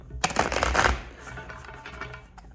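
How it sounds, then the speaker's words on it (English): Tarot cards are shuffled close to the mic, a quick burst of dense riffling and flicking followed by softer scattered card slides and taps, fairly quiet. "Do one more shuffle"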